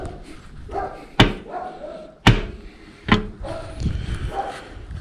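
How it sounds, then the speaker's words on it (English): The steel firebox door of a Lone Star Grillz 20-inch offset smoker clangs shut, with three sharp metallic bangs spaced about a second apart, then quieter shuffling and rattling afterward. "Close the firebox."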